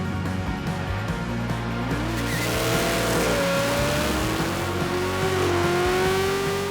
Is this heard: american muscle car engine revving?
yes